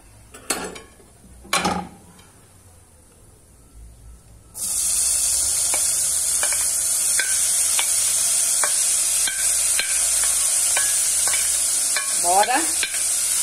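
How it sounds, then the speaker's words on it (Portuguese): Banana peel meat sautéing in a pan with garlic, onion, parsley, oregano and rosemary: a quiet start with a couple of utensil knocks, then a sudden loud, steady sizzle with light clinks of stirring. "Agora eu vou refogar essa carne."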